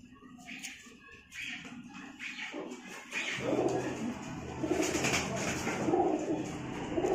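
Teddy baby pigeons coo softly at close range in a series of low, rounded calls, with light shuffling and tapping of the birds being handled.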